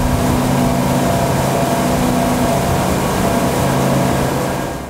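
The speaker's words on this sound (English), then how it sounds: "you can bypass one of the mufflers to celebrate the sound of your motors if you want" Twin Mercury Verado V8 outboard motors on a 2018 Mako 284 CC boat run with one muffler bypassed, giving a loud, steady, throaty engine roar that holds throughout and eases slightly at the end.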